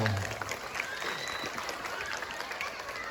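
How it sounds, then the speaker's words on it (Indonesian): A school audience of pupils and staff at a primary school Maulid Nabi celebration claps together in a steady, dense wash of applause that fills the whole stretch, with faint voices mixed in. "Tepuk tangan dong semuanya."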